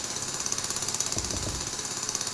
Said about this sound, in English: there's 3 people drilling that one